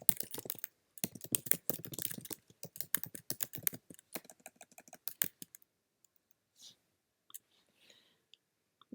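Rapid clicking on a computer keyboard as a website address is typed, close and crisp in bursts for several seconds, then thinning to a few scattered keystrokes and near silence.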